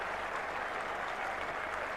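A large crowd at Old Trafford cricket ground roars and applauds during a 1997 England v Australia Test match, a dense, sustained wash of cheering and clapping that holds steady and loud throughout with no talk over it.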